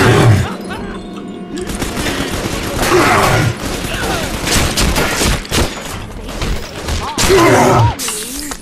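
Rapid volley of gunfire in BioShock 2, dense loud bursts of shots with mechanical clatter and crashes, continuous over several seconds with brief gaps, a voice mixed in.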